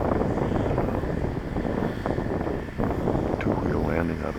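An E-flite 2.1 m Carbon-Z Cub SS electric RC model airplane flies in gusty wind, its propeller whine steady and fairly close beneath heavy wind buffeting on the microphone.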